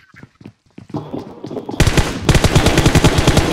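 Rapid automatic gunfire from a PUBG Mobile match, loud and close, starting as scattered shots and building into a sustained, fast burst of repeated reports.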